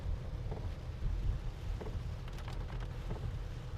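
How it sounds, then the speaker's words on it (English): Rain falls during a storm chase in southern Minnesota, a steady wash over a low rumble, most likely from inside a vehicle, with a few sharper drop hits and no talking. "So it looks like I'm now stuck in this band of rain."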